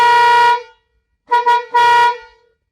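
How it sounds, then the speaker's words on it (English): A loud, brassy air horn fitted to a Ford truck blasts three times, one long toot, then two shorter ones after a pause, close and clear. "I swapped my factory horn on with an air horn"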